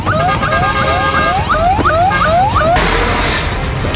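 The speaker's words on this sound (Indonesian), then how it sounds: "Petugas pemadam kebakaran mengerahkan 14 unit mobil damkar untuk memadamkan api." Wailing emergency sirens from fire engines heading to a dense residential house fire, a loud repeated rising-and-falling yelp cycling steadily for several seconds, then a steadier continuous tone close by.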